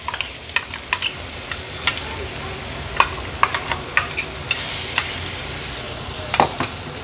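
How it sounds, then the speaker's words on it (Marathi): Ground masala paste frying in oil for stuffed brinjal, a steady close sizzle with sharp clicks and scrapes of a spatula stirring throughout, no voices. "आता हा जो वाटण आपण तयार करून घेतलेलं हे या तेलावर घालूया।"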